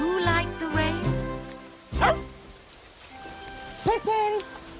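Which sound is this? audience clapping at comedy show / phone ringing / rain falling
rain falling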